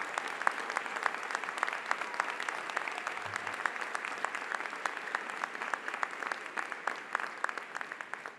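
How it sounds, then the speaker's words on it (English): At a university spring commencement, a large crowd applauds a graduate's mother, a dense, even wash of clapping that carries on steadily without voices above it. "please give a huge round of applause"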